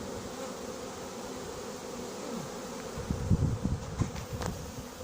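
A swarm of honeybees hums continuously during a hive collection outdoors, the dense buzzing growing louder and more agitated near the end with a few close fly-bys.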